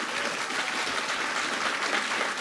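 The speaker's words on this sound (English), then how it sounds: "Can we get a round of applause first and foremost?" A TwitchCon 2024 panel audience applauds, a dense, steady wash of clapping from a large crowd that stays fairly loud and even across a few seconds.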